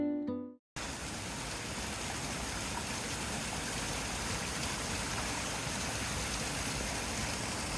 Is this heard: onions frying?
no